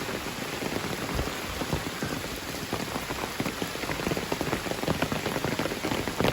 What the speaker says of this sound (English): I found the rain.